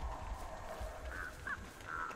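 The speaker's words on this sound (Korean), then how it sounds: "저리 가 이 까마귀 새끼야" A crow in the Dead by Daylight video game caws three short times, fairly faint, over a constant low droning game ambience, with no talk.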